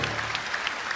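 Audience applause at a church healing service, a dense steady clatter of many hands clapping for about a second, fairly loud and continuous with no talk.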